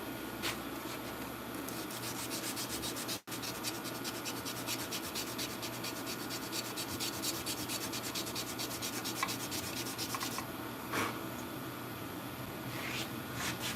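A sword blade being hand-sanded, continuous rapid back-and-forth rasping strokes, close and steady, broken only by a brief pause near the start.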